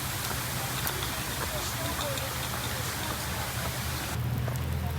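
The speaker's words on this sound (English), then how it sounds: "Rain's picking up." Heavy rain pours down steadily at a water park during a storm, a dense, loud hiss that stays constant throughout. A voice is faintly audible beneath it.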